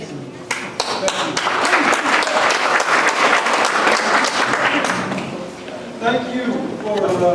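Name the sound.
audience applause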